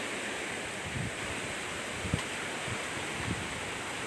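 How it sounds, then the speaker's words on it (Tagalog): Strong typhoon wind roars steadily across the microphone in a constant broadband rush amid a sugarcane field in Nasugbu, with a few faint low thumps of buffeting, and no voices. "napakalakas po talaga ng hangin dito."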